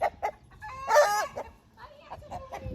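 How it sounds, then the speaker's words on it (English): A farm rooster among free-range egg-laying hens crows loudly, one full call with fainter clucks and chicken sounds before and after, close to the listener. "There's our rooster, Romeo."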